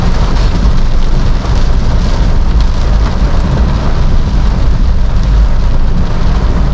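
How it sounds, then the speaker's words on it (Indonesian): Heavy rain pounds a 2019 Toyota Calya with a manual gearbox while it is driven through Malang, a loud, dense, constant roar of drumming on the car with no voices. "dengar sendiri suara hujannya seperti apa, deras ya"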